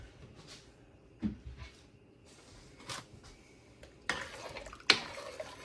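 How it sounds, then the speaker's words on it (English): A spoon stirring Italian wedding soup with meatballs and white beans in a pot, heard as faint scrapes and a few light clinks of metal against the pot, sparse and close in an otherwise quiet kitchen. "Give that a stir."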